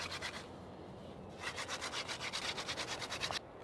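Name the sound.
hand drill spindle spun on wood for friction fire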